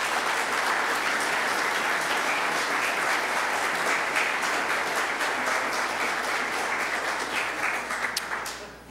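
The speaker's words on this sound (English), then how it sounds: "Please give them a big round of applause." An audience at an Oxford-style debate among local candidates in the 2015 Canadian federal election gives a sustained round of applause, loud and dense throughout, thinning out only in the final moment.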